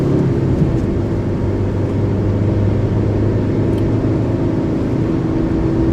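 A Maruti S-Cross car accelerating through the gears on a test drive, a steady loud engine drone with road and wind noise heard from inside the cabin.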